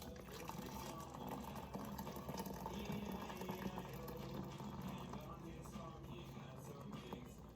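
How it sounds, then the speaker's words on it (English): Hot water pours steadily into a container for a fenugreek tea rinse, a faint continuous trickle and splash under quiet talk. "So I'm gonna go ahead and pour that in here."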